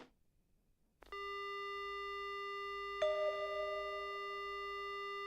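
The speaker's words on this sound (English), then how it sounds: "The only sound I hear is a dial tone." Steady telephone dial tone from a phone handset in the horror adventure game Spirit Hunter: Death Mark, starting after a second of near silence and holding continuously, with a brief soft click partway through.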